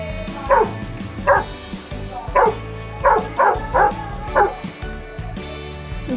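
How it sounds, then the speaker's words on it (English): A dog barks several times in short, loud bursts with pauses between them, over a faint background hum. "dog,"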